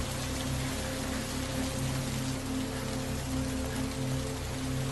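Steady rain falling and pattering on a surface, a dense continuous wash with a low, even hum beneath it, unbroken and without voices.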